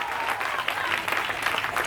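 A church congregation applauds to acclaim Jesus at a Bishop Matola service, with steady, moderately distant clapping from many hands and voices murmuring faintly beneath it.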